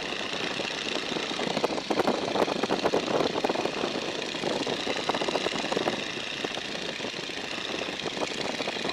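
A small airplane's engine held at climb power around 1,800 RPM, a steady loud drone with rough propeller pulsing and heavy cabin wind noise, continuous throughout with no talking.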